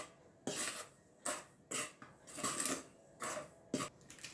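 Sugar is stirred in a bowl for donut dough, making a series of quiet, close scraping and clinking strokes in irregular bursts, with no one speaking.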